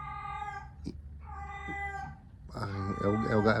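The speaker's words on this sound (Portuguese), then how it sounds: "é o gato demente, gente" A pet cat named Gatsby meows several times in a quiet indoor room, drawn-out tonal cries close by, followed by a person speaking over the end.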